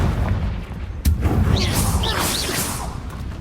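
A Confringo spell blast in the Hogwarts Legacy video game lands as a sharp, loud boom followed by a rushing whoosh and crackling fiery debris that trail off over a couple of seconds, set against a dense rumbling game soundtrack.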